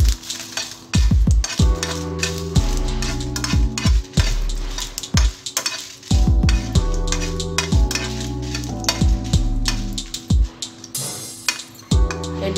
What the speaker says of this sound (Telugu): ఆయిల్ వేడిన తర్వాత ఎండుమిర్చి ఫ్రై చేసుకోవాలి.